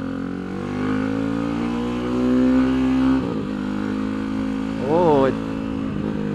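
Tianda TDR300 motorcycle engine droning steadily on a racetrack, then briefly dropping as it shifts up and climbing again in a sharp revving rise, with a short exclamation over the engine noise.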